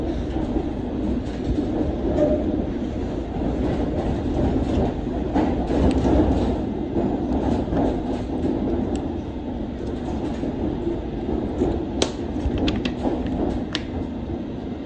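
A London Underground Circle line train pulls away from the platform at Edgware Road, giving a steady rumble with rhythmic wheel clatter and a few sharp clicks, loud and close throughout, with no talk.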